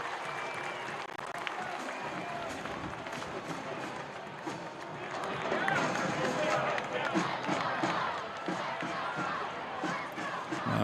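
A crowd in the stands at a Massillon Tigers versus McKinley Bulldogs high school football game applauds and cheers as a broad, steady roar that swells partway through, with a commentator talking over it.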